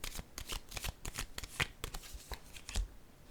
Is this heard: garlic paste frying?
no